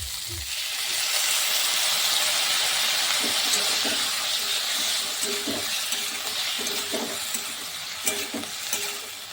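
Loud, steady sizzling and hissing as water hits a hot pan, with a few soft stirring scrapes; no one speaks.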